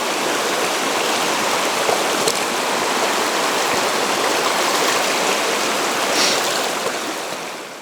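A slow stream in Finnish Lapland in summer, its water gliding over rocks in a steady, continuous wash that stays close and even throughout, with no voices.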